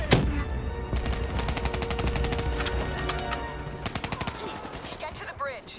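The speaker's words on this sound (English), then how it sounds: "Give me some cover fire." Sustained automatic gunfire in Call of Duty: Black Ops III during a cover-fire push, dense rattling bursts and scattered shots filling the scene, loud and close, with game dialogue and ambient battle noise mixed in.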